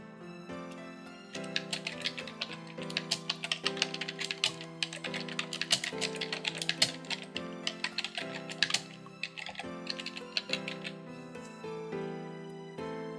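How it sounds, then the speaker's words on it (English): Steady, rapid computer keyboard typing with uneven bursts of keystrokes and short pauses, close and clear with no voices, as a question is entered into an online survey form. "Type in your question."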